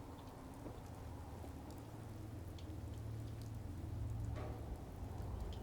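Rain falling in Fallout 4, a steady even hiss of drops with a low rumbling undertone, continuous and moderately loud throughout, with no one talking.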